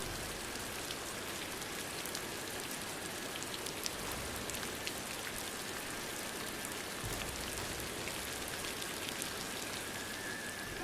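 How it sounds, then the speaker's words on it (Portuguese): Heavy rain pours steadily for around eleven seconds as an audio drama sound effect, a dense, even hiss of drops with no voices and no change in intensity. "A chuva caía torrencialmente"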